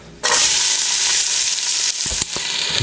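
Hot oil sizzles loudly and steadily in a pan as the first step of loaded baked beans, a continuous close frying hiss with a few soft clanks near the end.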